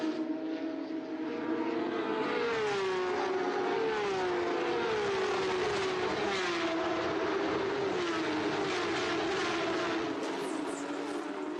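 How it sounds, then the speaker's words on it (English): Race car engines roaring during a 500 km endurance race at Interlagos, a loud, sustained drone with rising and falling pitch as cars pass, continuous and unbroken with no talk. "Listen to the roar of these engines."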